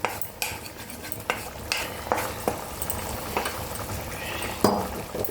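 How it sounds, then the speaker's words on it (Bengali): Fried egg bhujia being stirred into a potato and onion curry in a pan, a soft sizzle punctuated by irregular sharp clinks and scrapes of a utensil against the pan, close and without talk. "ভালো করে নেড়ে চেড়ে মিশিয়ে দিয়ে একটু ঢাকা দিয়ে দেবো"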